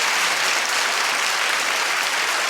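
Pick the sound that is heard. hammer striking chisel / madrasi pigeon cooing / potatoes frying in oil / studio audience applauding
studio audience applauding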